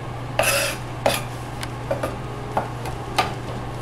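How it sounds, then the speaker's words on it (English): Irregular knife taps chopping garlic on a cutting board, several quick chops spread over a few seconds against a low steady hum. "Right now I'm just chopping up some garlic."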